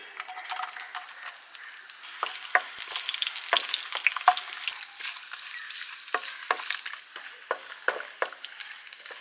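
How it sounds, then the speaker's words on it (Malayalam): Chopped coconut fries in coconut oil, a bright crackling sizzle near the pan with scattered pops and stirring scrapes throughout, no voices. "കുറച്ച് വെളിച്ചെണ്ണ ഒഴിച്ചു കൊടുക്കും കുറച്ച് തേങ്ങ കൊത്തി ഇട്ട് കൊടുക്കും"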